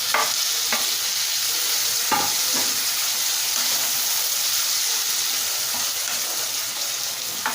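Chopped tomatoes frying in a pan for mushroom curry, a steady loud sizzle with intermittent scraping clatter from a spoon stirring them through the oil.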